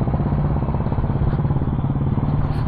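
Two-decade-old Karizma motorcycle engine running steadily right after starting, a close, loud, even idle with a rapid thumping pulse and a constant low hum throughout.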